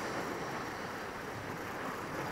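Ocean swell and waves wash against the shore at night, a faint, steady broadband roar with wind noise and no distinct breaks.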